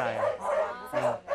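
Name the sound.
other dogs barking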